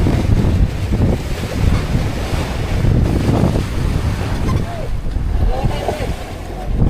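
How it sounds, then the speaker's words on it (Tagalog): Steady wind roaring over an open sea around a fishing boat, constant and loud with broad rushing noise and faint water wash, while a voice speaks faintly in the background. "Hangin na naman."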